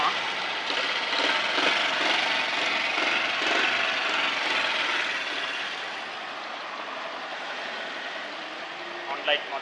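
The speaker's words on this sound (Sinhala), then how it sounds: "ඉන්ජිනේ ශබ්ද පොඩ්ඩක් ඔයගොල්ලෝ බලා ගන්න" A Honda Little Cub motorcycle, ON Light Anniversary Edition model, runs with a steady, fairly close engine drone that eases slightly quieter partway through, heard alone without talk.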